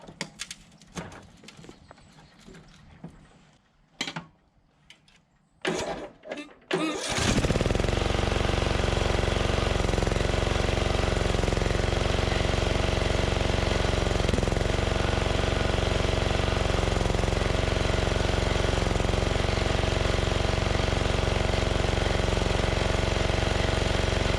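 A Craftsman DYT4000 lawn tractor engine, run on choke, starts after several seconds of handling knocks, then holds a loud, steady, rough drone close by for the rest of the time.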